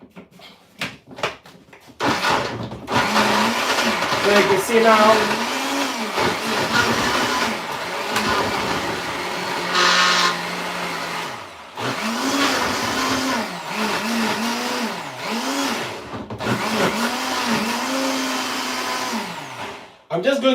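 A kitchen blender whirs through a thick banku mixture with water added, running loud and steady in long bursts with brief pauses, while someone talks over and between the runs.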